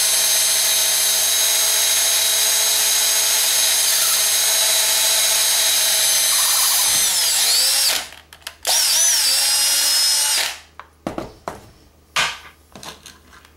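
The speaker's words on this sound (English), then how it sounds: "So here I am drilling out." A power drill drilling out a Hot Wheels toy car whines steadily for several seconds at high speed, slows and stops, spins up again, then gives way to short clattering handling noises.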